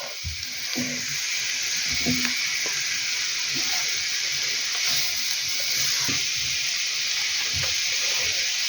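Onions and cabbage cook in a pan, a constant close sizzle and hiss under scattered soft scrapes and knocks of stirring.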